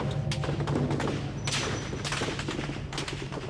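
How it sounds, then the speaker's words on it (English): Rapid bursts of army gunfire with live ammunition crackle and thud in quick succession, a dense volley that pauses briefly and resumes, sounding distant and muffled. "And you just hear this thunderous sound of gunfire."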